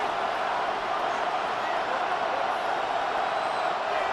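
Stadium crowd in the Madden NFL 26 football game applauding the defense, a steady dense roar of cheering and clapping filling the whole stretch without pause.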